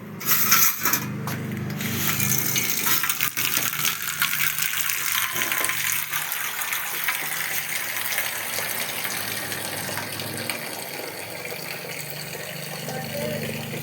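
Water pours steadily into a vessel for a drink at home, a continuous gushing hiss that lasts nearly the whole stretch at moderate loudness, with a brief clatter and faint voices near the start.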